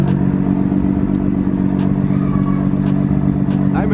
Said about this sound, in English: this is how it sounds at idle.